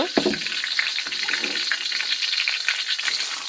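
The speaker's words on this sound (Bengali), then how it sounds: "এবারে পেঁয়াজ কুচি দিয়ে দিব" Chopped onions hit hot oil already holding cinnamon sticks, cloves, peppercorns and bay leaves, setting off a loud, steady close-up sizzle and crackle of frying that runs throughout without talk.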